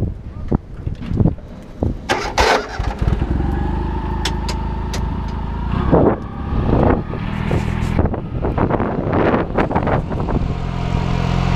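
A car on the move, its low engine rumble mixed with heavy buffeting wind noise and flapping, with irregular knocks and bumps over about eleven seconds.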